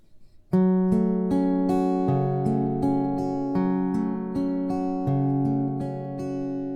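Acoustic guitar picking a song's pattern, alternating bass root and fifth notes under ringing strummed chords in a slow, steady rhythm, close and clear with no talking.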